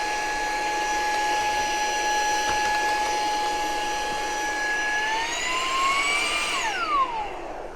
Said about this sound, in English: highly recommend getting a little vacuum like that to vacuum this out as you're going